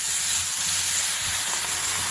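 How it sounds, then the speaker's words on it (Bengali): Fish coated in turmeric, salt and chili powder fries in hot oil, giving a steady, close sizzling hiss that runs evenly throughout with no talking. "এখানে মাছটা আমি ভেজে নেব, সেজন্য তেল গরম দিয়েছি।"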